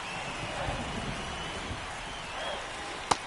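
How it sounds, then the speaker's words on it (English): Steady rain hisses across a ballpark in the baseball video game MLB The Show, a continuous even wash with a sharp click near the end. "This rain is not letting up."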